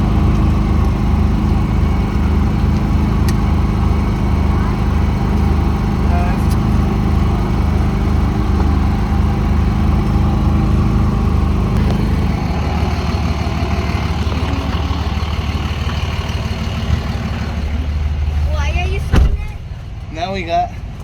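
A vehicle engine drones in a steady, low, even hum while driving down the road, close and continuous, with people talking over it.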